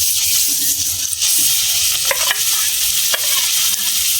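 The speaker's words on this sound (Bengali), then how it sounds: "আমি এখন এই পুরটা আমি ভেজে নেব।" Pea kachori filling frying in hot mustard oil in a wok, a steady loud sizzle with stirring scrapes throughout, no voices.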